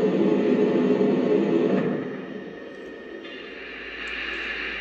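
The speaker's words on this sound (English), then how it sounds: "here's the sound of the blowdown" A Lionel Vision Line N&W Class A No. 1218 model steam locomotive plays its blowdown effect, a loud, steady burst of hissing steam noise that drops in level partway through and then swells slightly again.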